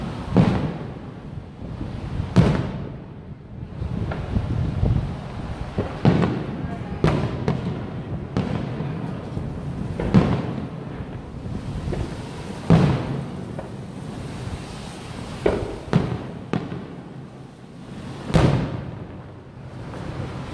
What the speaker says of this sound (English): fireworks that's being shot off in the harbor